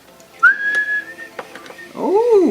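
A child attempts a whistle during a birdhouse build: one sustained breathy pitched note, then a wavering, sliding tone at the end, close and fairly loud.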